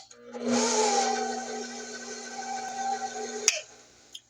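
An electric mixer beating sweet potato pound cake batter with flour, a steady motor whir starting abruptly and running evenly for about three seconds before stopping with a clack.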